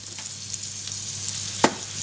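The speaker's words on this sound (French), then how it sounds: "Nous versons les oignons préalablement coupés dans le beurre." Chopped onions sizzling in butter in a saucepan, a steady soft crackling hiss with a few small pops and one sharper clack of stirring, close and unaccompanied by speech.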